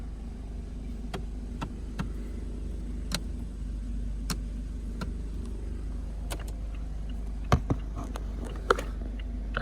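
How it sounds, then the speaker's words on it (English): The hazard light flasher of a 2016 Scion iA ticks steadily, evenly spaced sharp clicks about once a second over a low engine hum, with a few louder taps near the end. "The hazard sound does kind of remind me of GM."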